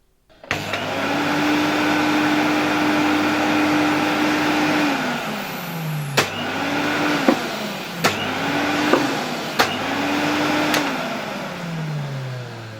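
A 1973 Electrolux Z320 canister vacuum cleaner runs with a steady, loud motor drone, switched off and on several times so its pitch winds down and spins back up between sharp switch clicks.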